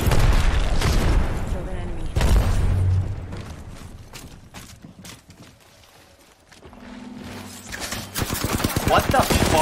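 A frag grenade explosion and rapid gunfire in a first-person shooter video game form loud bursts and crackling shots, a deep boom near the start, then a quieter lull before renewed fire, with voices talking in places.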